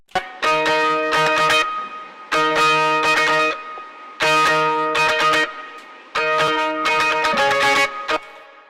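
Loud distorted electric guitar chords played in several bursts, each ringing out briefly before short silent gaps.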